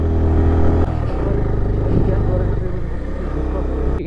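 A vehicle from Sikkim with an Indian number plate goes by on a rural hill road in Ilam, eastern Nepal, its engine a loud, close, rumbling drone that holds for several seconds.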